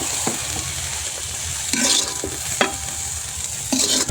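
Chillies, garlic and onion fry in hot oil in a wok-style pan, giving a steady close sizzle broken by several sharp stirring scrapes and clatters, with no voices.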